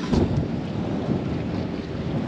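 Steady rain and rolling thunder at a marina roar together in a dense, continuous wash, with a low rumble swelling near the start and no voices.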